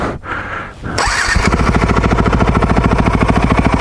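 A Yamaha WR450F dirt bike engine catches and settles into a loud, steady idle with rapid, even firing pulses, close up after a brief sputtering start.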